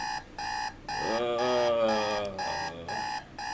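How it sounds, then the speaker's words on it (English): In a video game, an alarm clock buzzes loudly in repeated pulsing bursts, with a longer sustained warbling tone in the middle, close and clear with no speech. "I can hear the buzzing of my alarm going off."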